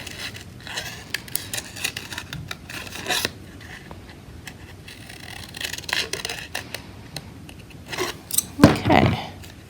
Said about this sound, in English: I'm going to go ahead and draw another shape and cut that out as well